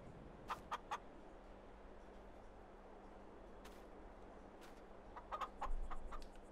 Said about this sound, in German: Sechs Monate alte Hühner.